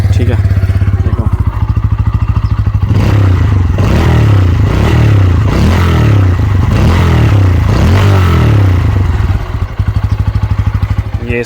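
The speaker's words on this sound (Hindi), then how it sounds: "एग्जॉस्ट नोट की बात करूं, तो एग्जॉस्ट भी इसका अच्छा है, नो डाउट। मैं तुम्हें सुनाता हूं" Bajaj Pulsar N160 motorcycle idling with a loud, close, throbbing exhaust note, then revved repeatedly in several sharp bursts that rise and fall before settling back to idle, with no one speaking.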